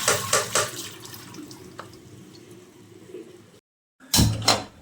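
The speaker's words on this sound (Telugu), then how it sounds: "ఇట్లా జాలి గిన్నెలో పోసుకొని వడగట్టుకొని ఉంచుకోవాలి" Water runs and splashes as it drains from soaked puffed rice through a strainer, trickling off to silence before a sharp metallic clatter close by.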